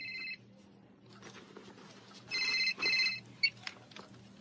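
A telephone rings in a room, in three short electronic bursts of a ringtone separated by pauses, with brief clicks and low background noise between them.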